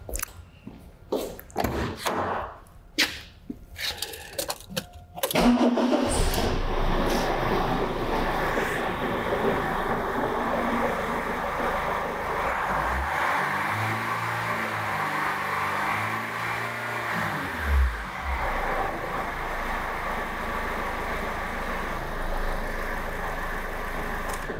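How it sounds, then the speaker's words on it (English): Diesel common-rail car engine, first revved in short bursts, then settling into a steady idle that runs on with a couple of brief throttle blips, close and fairly loud. "accelerate the engine for a little while and then allow it to idle again."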